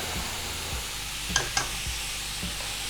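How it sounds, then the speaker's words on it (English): Ground beef browning in a little olive oil in a pan, stirred with a wooden spoon: a continuous frying sizzle with a few soft scrapes and a couple of quick knocks, close and without speech. "So I'll give this a quick stir as well."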